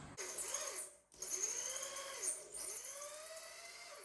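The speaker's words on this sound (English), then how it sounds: "on the last hole I'm drilling there, I think I've actually found its limit" A power drill whines loudly as a drill bit bores holes in three bursts, the pitch dipping under load, with brief pauses between runs.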